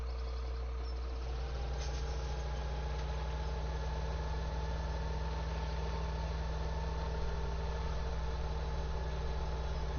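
A vehicle engine in Farming Simulator 17 idles steadily with a constant low hum and faint rattle that settles deeper after the first second, continuous and even for the whole stretch, no voices.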